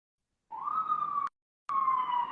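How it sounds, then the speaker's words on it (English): An emergency siren, ambulance or police, sounds as a steady loud wail in two bursts separated by a short silence, with no voices. "Okay, it's an ambulance. It's a cop."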